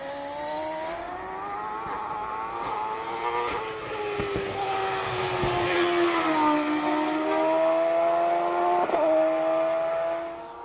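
Race car engine at the Simola hill climb, sounding like an F1 car, roars loudly and continuously, its pitch climbing and shifting through gear changes as it passes close by.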